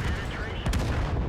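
A tank gun fires a shell in World of Tanks, a sharp blast with a rumbling tail over steady low engine noise from the Chi-To tank.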